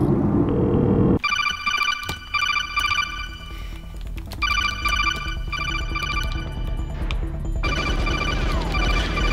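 A telephone rings in repeated electronic trilling bursts with short gaps, loud and close over a low rumble like a car interior.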